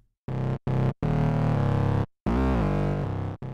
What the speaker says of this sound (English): with overdrive providing the smoothest sound